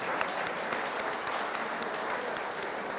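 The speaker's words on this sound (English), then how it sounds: "A round of applause for Mr. Kristi, please." An audience at a Macedonian Independence Day celebration claps steadily, a dense, even patter of many hands that holds at moderate loudness for the whole stretch.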